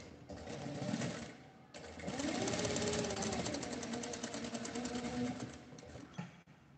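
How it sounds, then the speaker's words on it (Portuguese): A sewing machine runs a straight seam down fabric for a small coin and card purse, its steady fast needle chatter loud and close, with a short pause near the start. "E vou passar uma costura de cima embaixo."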